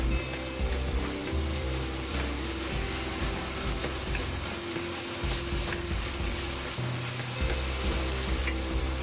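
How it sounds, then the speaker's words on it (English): Rice with moi choy and egg stir-fried in a pan for golden fried rice, a steady loud sizzle with scraping and stirring of the spatula throughout, no talking. "Fry your rice more until everything is well combined"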